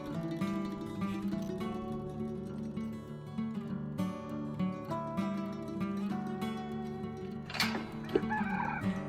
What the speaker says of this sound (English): I'm gonna give these turkeys a little bit of food because they haven't eaten yet